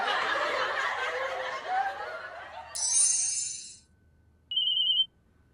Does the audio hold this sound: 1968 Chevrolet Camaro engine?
no